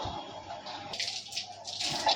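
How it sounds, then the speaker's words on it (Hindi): Water is poured onto potted plants in a home in a soft, steady stream, splashing and trickling faintly against the soil and leaves. "पौधों में पानी देना ज़रूरी होता है"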